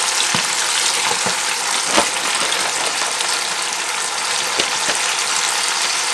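Chicken wings deep fry in hot oil with a dense, steady, loud sizzling hiss, scattered with small pops and crackles, close by and without voices.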